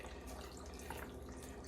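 Blueberry vanilla limeade pours steadily into a blender jug, a continuous liquid splash and trickle heard close up, with no speech over it.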